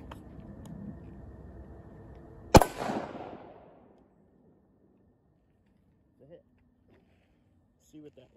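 A single sharp 5.56mm rifle shot firing M193 ball ammunition from about 10 yards, one loud crack with a short decaying tail, followed by near silence and a few faint small knocks.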